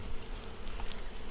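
A honey bee buzzes inside a glass jar during hive work, a steady close insect drone with a brief louder flutter near the end.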